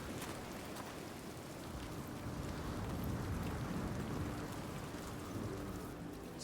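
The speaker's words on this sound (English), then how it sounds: "I like that localized storm right there." A localized storm in Senua's Saga: Hellblade 2 brings a steady, dense wash of rain with a low rumbling undertone, faint and continuous throughout.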